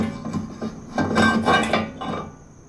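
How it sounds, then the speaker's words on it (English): A heavy brake rotor set down onto a car's rear wheel hub, with a series of clanks and scraping metallic knocks, close and fairly loud. "To install your new rotor, just grab it and put it on the wheel hub."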